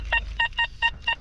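A metal detector gives five short, evenly spaced tonal beeps in quick succession while someone hunts for coins near old trees and the site of a former manor house.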